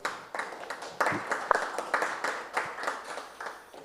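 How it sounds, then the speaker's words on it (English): Audience applauding panelists at a national roundtable, a moderate room of clapping hands with uneven, overlapping claps over a few seconds, a voice briefly heard beneath. "Let's give them another round of applause."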